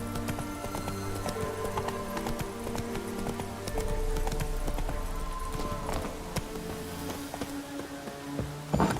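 Geralt's horse Roach gallops in The Witcher 3: Wild Hunt, a steady clip-clop of hooves running under game music and ambient sound, with a brief whinny-like cue and a louder thump at the end.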